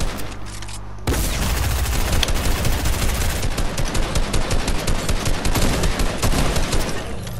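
Rapid bursts of automatic gunfire from a Fortnite battle, loud and dense, rattling continuously for several seconds after a brief quieter opening.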